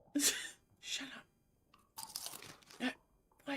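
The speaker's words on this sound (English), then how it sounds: "why are you eating so loud?" Loud, close chewing and munching on rice crackers comes in crunchy bursts with short quiet gaps between them.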